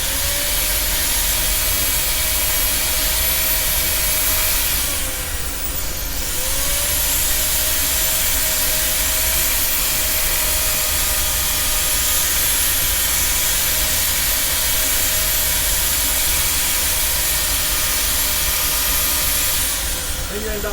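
A sander runs steadily on scrap wood turning on a lathe, giving a loud, continuous hiss and whir that holds for the whole stretch with a couple of brief dips, while a voice talks over it.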